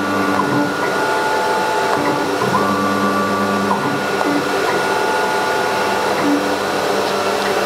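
A CNC router from the S series with Airtech dust extraction runs with a loud, steady vacuum-like roar and machine whine, constant throughout, with faint tonal hums layered over it.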